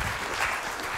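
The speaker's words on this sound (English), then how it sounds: "let's give them both a big round of applause." A live audience at a science-of-illusion talk breaks into steady applause, a dense, continuous wash of many hands clapping at moderate volume with no voices over it.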